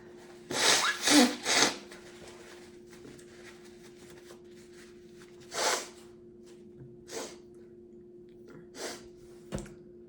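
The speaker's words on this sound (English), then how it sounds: "I gotta blow my nose, guys." Several forceful nose blows into a tissue, a quick burst of three followed by scattered shorter honks and snorts, close up over a faint steady hum.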